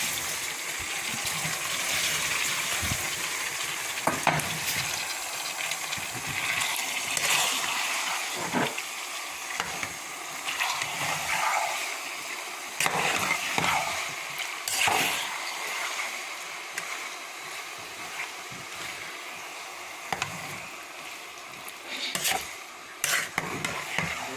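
Tomatoes and pepper fry with caramelized onions in a pan, giving a wet, bubbling sizzle with intermittent scraping and stirring knocks throughout, close and moderately loud, with no talk.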